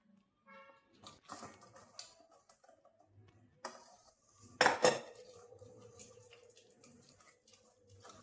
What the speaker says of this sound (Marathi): आता आपण याला पुरण पात्रातूनच वाटून घ्यायचं।